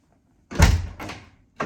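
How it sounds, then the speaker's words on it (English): A newly installed interior door shut twice, each time a solid close thunk with a short rattle, loud and near in an otherwise quiet room. "we can actually shut the door now."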